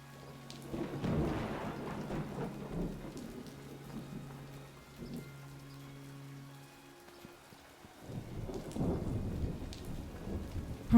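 Video game thunderstorm with steady rain, rumbling thunder rolls swelling twice and fading between, soft and distant-sounding under the constant patter.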